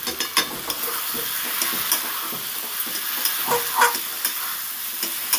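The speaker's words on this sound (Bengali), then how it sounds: "আলুগুলো দিয়ে মশলার সাথে ভালো করে নেড়ে চেড়ে মিশিয়ে দেবো" Fried potatoes are stirred into spiced masala in a pan, a continuous frying sizzle broken by repeated scraping and clacking strokes of the spoon, close and fairly loud.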